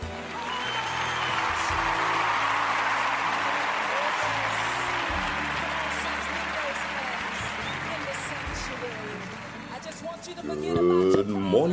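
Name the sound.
applause, a hand clap for the radio host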